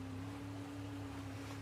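Ocean waves wash steadily in a video game scene, a soft continuous surf rush with a low hum beneath, no voices present.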